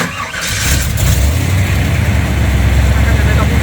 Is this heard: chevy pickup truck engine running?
yes